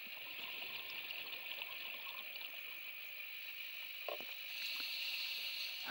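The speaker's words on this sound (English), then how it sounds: "overhead you can hear the props from the boat" Boat propellers whir steadily overhead as heard from underwater while diving on the seabed of Strangford Lough, a continuous droning hum that grows slightly louder toward the end.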